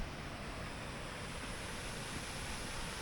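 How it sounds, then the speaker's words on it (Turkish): Water gushes steadily from pipes pumping sand and soil out of a stream in Chittagong, Bangladesh, a continuous broadband rushing roar at close range with no voices. "Bu borulardan derenin içindeki kumu ve toprağı buraya çekiyorlarmış"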